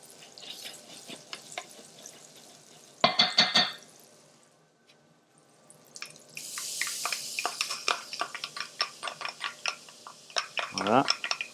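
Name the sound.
shallots sweating in butter in a pan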